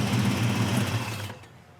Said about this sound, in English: Great sounding big block, isn't it?